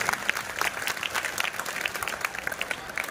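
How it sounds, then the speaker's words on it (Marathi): Audience applause at a school felicitation ceremony for scholarship students, a steady mass of clapping from a crowd that keeps going evenly without letting up. "टाळ्यांचा आवाज वाढला पाहिजे."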